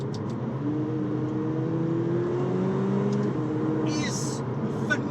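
A McLaren 720S engine hums steadily with a slowly rising tone, under continuous talking inside the car.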